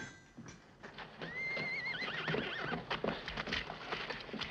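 A horse whinnies in a long, wavering neigh in a Western setting, heard fairly faint and distant, with hoof clip-clop and background bustle around it.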